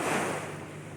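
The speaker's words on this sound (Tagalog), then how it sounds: "nandito na naman kami sa tabing dagat" Steady broadband wash of surf at the shore, loud and close, with a low rumble and no voices.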